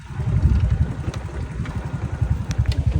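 A motorcycle engine runs close by on a rough trail ride, its low pulsing thrum rising and falling steadily throughout, with faint clatter on top.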